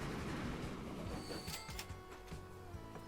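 A train pulls into a station in Transport Fever 2, a rolling rumble that eases off as brakes squeal and a few clanks and hisses ring out near the end.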